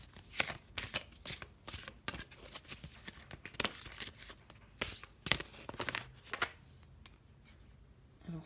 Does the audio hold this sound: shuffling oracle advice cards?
yes